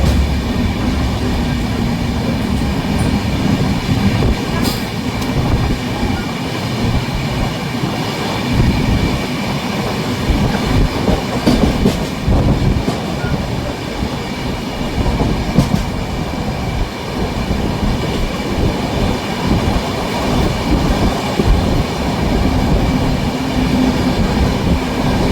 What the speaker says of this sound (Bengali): ট্রেন আমাদের পার করছে এখন ডানকুনি জংশন